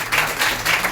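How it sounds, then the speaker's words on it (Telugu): An audience claps for a pastor at a Telugu church gathering, a dense, steady wash of many hands lasting under a second. "మొదటిగా సార్ క్లాప్స్ పడదాం."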